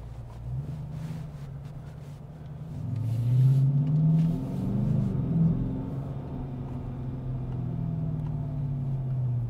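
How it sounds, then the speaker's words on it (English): A Dodge Challenger R/T Shaker V8 rumbles and revs as it drives and slides with traction control switched off. The deep engine note swells and falls steadily, close and loud, with no talk over it. "There's nothing like driving a torquey V8 engine. I mean, it's just perfect. The sound, the torque, the power."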